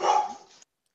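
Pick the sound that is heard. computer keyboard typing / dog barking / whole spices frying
dog barking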